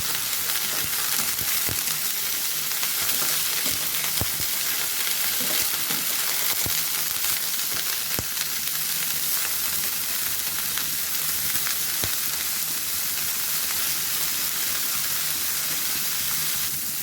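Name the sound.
stirring broccoli frying in oil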